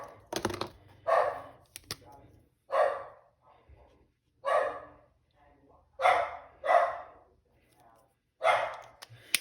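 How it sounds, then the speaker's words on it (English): A house dog barks excitedly indoors, a string of about seven sharp, evenly spaced barks at moderate distance, each separated by short pauses. "So the dog always goes crazy."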